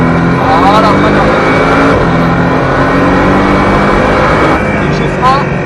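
A Porsche Cayman S engine revs and accelerates steadily on a race track, loud and close, with a person talking over the engine noise.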